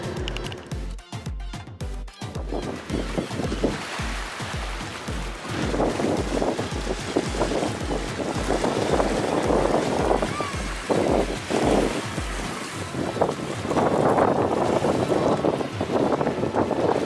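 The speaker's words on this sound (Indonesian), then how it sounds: "Tapi hari ini ombaknya besar nih teman-teman." Strong wind buffets the microphone at Yokohama harbour while waves wash and slap nearby, a steady loud roar with low thumping gusts early on and surging water throughout.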